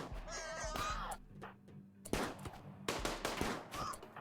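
Heavy SMG fire in a video game set in an ice oasis, heard as several loud sharp bursts of shots separated by short gaps, with background game sounds in between.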